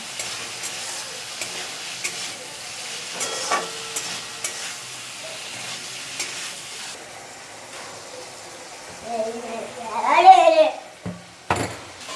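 Spice paste with slit green chillies fries in a pan for a fish curry with potato and raw mango, a steady soft sizzle with scraping stirs; a voice talks briefly near the end.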